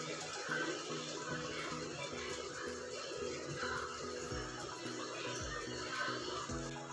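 Water is poured into curd with chopped onion to make a buttermilk curry. The pour gives a steady, close, watery trickle and splash that runs throughout with no voices.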